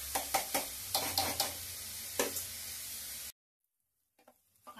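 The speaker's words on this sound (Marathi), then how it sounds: "आता मी सर्वप्रथम या कांद्याला लाल करेपर्यंत या तेलामध्ये तळून घेते" Chopped onions frying in oil for prawn masala give a bright close sizzle with a few quick stirring scrapes, then the sound cuts to near silence, and faint clatter returns at the end.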